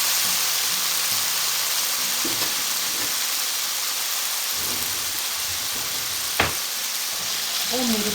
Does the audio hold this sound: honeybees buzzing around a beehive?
no